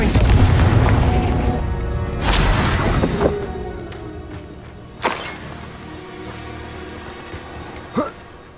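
A Confringo fire spell explodes in Hogwarts Legacy with a heavy booming blast, then fades. A few sharper spell impacts follow, with faint voices in the game.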